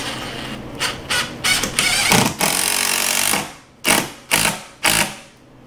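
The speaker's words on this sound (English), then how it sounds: "So let's shoot a couple screws in right here." Power drill drives screws into a door jamb, several loud close bursts of whirring motor: a long run with short stops, then three brief separate pulses after a pause.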